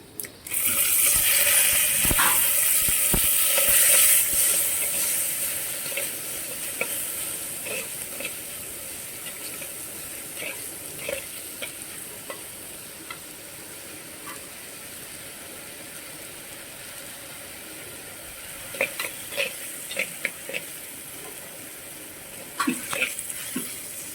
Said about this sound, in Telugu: ఈ పెసరపప్పుని ఆయిల్లో రెండు నిమిషాలు వేపితే చాలండి